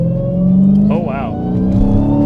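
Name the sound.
2019 Dodge Challenger Hellcat Redeye accelerating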